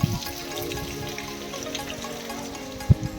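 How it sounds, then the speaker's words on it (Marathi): A small mountain stream on the Mangi Tungi trek trickles and gurgles steadily at moderate volume, with one sharper splash or knock near the end and no talking. "इकडं छोटं पाण्याचं स्रोत आहे."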